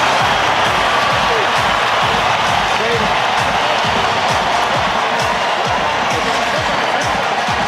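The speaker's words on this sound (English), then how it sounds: "the crowd are going berserk" Roaring rugby stadium crowd at a South Africa versus Argentina Springboks match, a dense, sustained wall of cheering and noise throughout, with a commentator talking over it.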